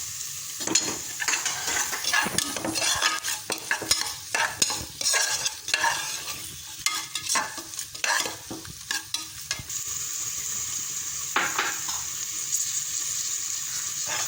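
Ginger garlic paste and green chillies fry in a pan with a steady sizzling hiss, broken by frequent scraping and tapping stirring strokes, then the sizzle continues alone and evenly.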